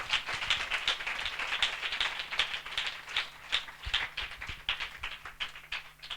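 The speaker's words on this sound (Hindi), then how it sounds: "हम जोरदार तालियों से उनका स्वागत करें।" A church congregation claps to welcome guests at a spiritual assembly: quiet, somewhat distant clapping in a fairly regular rhythm that keeps going throughout, with no speech over it.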